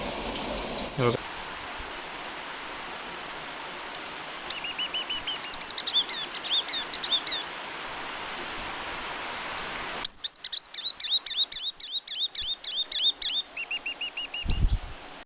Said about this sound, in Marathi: रोज ही एक चिमणी आहे ना अंगणात येते आणि आरशासमोर बघत असते